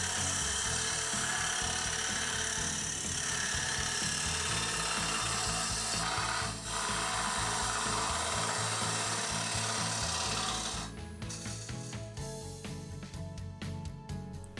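TurnMaster mushroom cutter undercut hollowing wood on a lathe, a loud continuous scraping and rubbing that turns into a chattering, pulsing cut toward the end.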